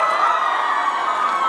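A school freshers' day audience cheers and claps for volunteers, a loud, dense crowd roar of shouting and applause that holds steady for a moment before cutting off.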